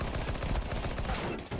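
Rapid gunfire bursts from a CS:GO match, a dense steady crackle of shots filling the whole moment at even loudness with no break.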